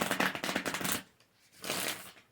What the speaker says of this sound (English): I've shuffled this too many times probably,